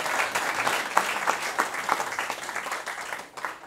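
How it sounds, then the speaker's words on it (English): Steady applause from an audience, many hands clapping together in a dense patter that swells and fades slightly over a few seconds. "Round of applause for our Kate"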